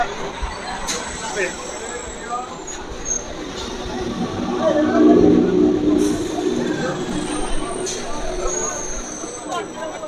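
Busy interior of a moving, crowded local passenger train: a steady rumbling hum with crowd chatter and occasional faint squeaks, swelling slightly midway.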